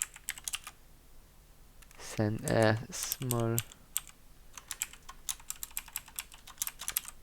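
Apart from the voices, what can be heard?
typing on a computer keyboard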